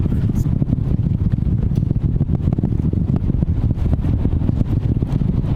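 A continuous deep, rumbling roar of rocket engines at the Artemis II launch dominates, heavy and broadband with a crackling texture, steady and loud throughout without any pauses.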